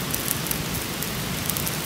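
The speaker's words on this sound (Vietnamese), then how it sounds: "Ủa mưa rồi." Rain falling outdoors beside a garden, a steady soft hiss of drops with faint patters, fairly quiet and with no voices.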